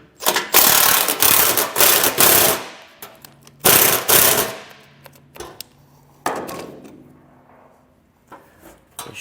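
A ratchet loosens fasteners while a Roadmaster base plate is fitted to a 2022 Ford, loud, rapid clicking bursts in several spurts, followed by a few quieter metallic clunks, close by with no talking.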